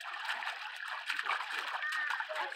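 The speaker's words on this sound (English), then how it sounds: "Hey, you're splashing me." A small child splashes in a pool, giving near, continuous splashing and sloshing water with bursts of heavier splatter, while a child and an adult talk throughout.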